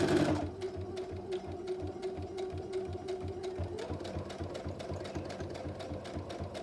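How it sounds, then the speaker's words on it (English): A sewing machine runs steadily, stitching a fabric strip for a simple handmade bag, its rapid, even needle clatter close and continuous after a brief louder start, with no one talking over it. "we're going to put that right on the machine. And we're going to sew that strip, just like so"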